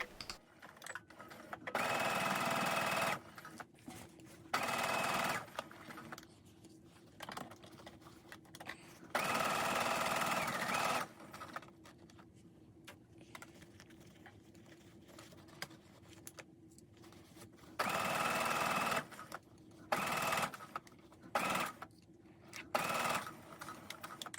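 A sewing machine stitches a cuff onto a gathered sleeve in bursts, each run a quick buzzing rattle lasting a second or two, separated by quiet pauses, close and clear.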